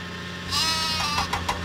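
Sheep bleat in a Thomas & Friends railway video game, with several quavering calls following quickly after one another over a low steady hum.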